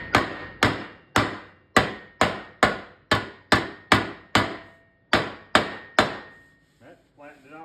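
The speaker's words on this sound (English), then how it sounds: "So we're gonna see if we can hammer it down a little bit." A dented metal joystick plate on an arcade cabinet is struck by a hammer about a dozen times in a steady, even rhythm, each blow loud and close with a short ringing decay, followed by brief faint noise.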